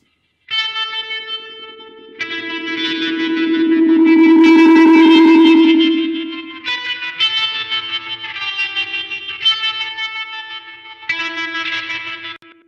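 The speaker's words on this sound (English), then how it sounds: "It's where the delay feeds back into itself and it just starts looping around and you get this sort of crazy sound." Electric guitar through heavy delay with feedback cranked so the repeats loop into themselves, swelling into a loud, sustained, smeared tone before settling into echoing strummed notes, with distortion and chorus-like shimmer.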